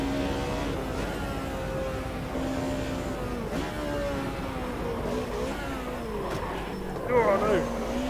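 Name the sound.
naturally aspirated touring car engine in Automobilista 2 video game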